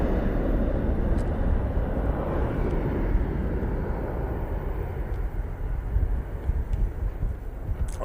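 An Etihad airliner passes over runway 23 right at Manchester Airport with a loud, continuous broadband jet roar that holds steady throughout, slightly roughened by wind on the microphone.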